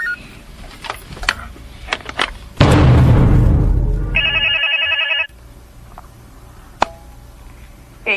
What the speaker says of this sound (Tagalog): Tumagan ang telepono, Gina.